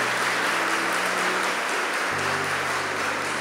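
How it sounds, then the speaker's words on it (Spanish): A church congregation claps in sustained, dense applause, a steady wash of many hands at an even level over a low droning tone in the background. "Dele un aplauso al Señor."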